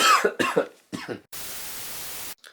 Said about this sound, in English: I'm coughing because I was in an attic for a few hours